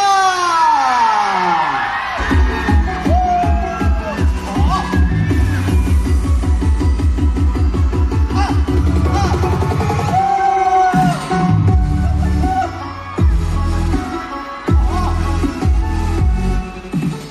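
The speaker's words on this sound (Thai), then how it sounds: "ขอเสียงปรบมือและเสียงกรี๊ดต้อนรับณเดชน์ยาย่า" A crowd at a Lay's Thai Taste promotional event screams and applauds to welcome Thai stars Nadech and Yaya. The high, shrill cheering and clapping stay loud and sustained over music for most of the stretch.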